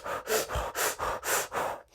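Heavy, rhythmic breathing, about four slow inhale-exhale cycles in two seconds, close and fairly loud, with a breathy rasp and no talking.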